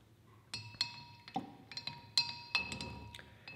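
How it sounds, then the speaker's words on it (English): Wine must stirred inside a glass carboy during fermentation, heard as a run of bright, ringing glass clinks and knocks at an uneven pace, close and fairly loud with no talking. "we're gonna give it one little more stir"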